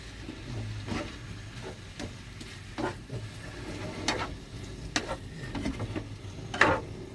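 Maple, garlic and ginger BBQ sauce being stirred and blended with a spoon in a kitchen pot, soft scraping and tapping strokes repeating irregularly at close range, with a sharper clink near the end.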